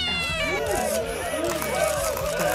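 A woman playfully imitates a cat's meow in a run of repeated, drawn-out mewing calls over background music, close and fairly loud, as part of a catwalk game.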